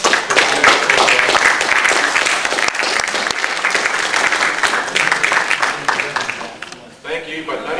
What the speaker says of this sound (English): Thank you, but no need to clap